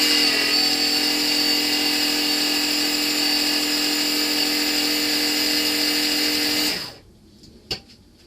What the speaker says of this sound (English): Let's power it up, see if it'll spin.